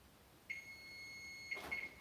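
A kitchen timer beeps for a pie crust during a live cooking stream, two faint electronic tones about a second apart over quiet room noise, no talking.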